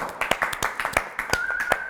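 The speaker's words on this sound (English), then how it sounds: "Let's give a round of applause" A short burst of scattered hand clapping, a handful of claps in an uneven rhythm, with a faint high whistle-like tone partway through.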